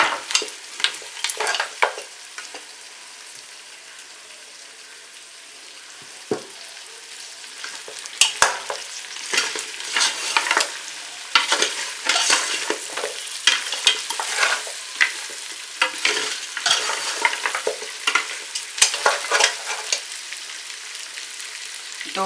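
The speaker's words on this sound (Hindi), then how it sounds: "अब मैं इसमें फ्राई कर रही हूँ, अच्छी तरह भूनेंगे" Garlic, ginger, spices and goat trotters fry in a pan, a constant sizzle broken by repeated scraping stirs of a spoon, close and fairly loud with no talk.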